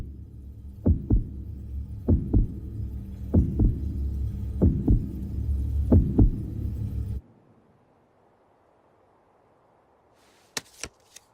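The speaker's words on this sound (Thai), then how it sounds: "เสียงหัวใจเต้น" Loud anime heartbeat sound effect from a card-battle scene: five heavy double thumps at a steady, slow rhythm over a low hum, then near-silence broken by two sharp clicks at the end.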